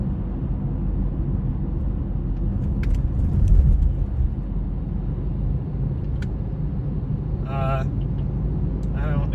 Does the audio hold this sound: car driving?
yes